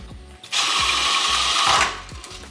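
A cordless power drill-driver whirs loudly for about a second while tightening a screw to mount a fluorescent light ballast, with quieter ratcheting clicks and handling before and after.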